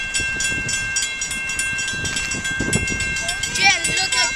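An AT&SF excursion train rolls past on its way back to Los Angeles with a steady rumble and clatter of wheels, a high tone running throughout, and people talking excitedly nearby.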